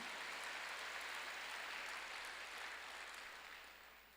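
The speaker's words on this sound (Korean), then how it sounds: "박수." A church congregation at a Wednesday worship service claps together in a sustained, even wash of applause that holds steady and then fades toward the end.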